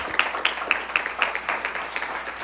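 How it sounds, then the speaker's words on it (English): An audience at a team quiz game show claps, a faint, sparse run of roughly evenly spaced hand claps over a couple of seconds. "Let's give them a big round of applause."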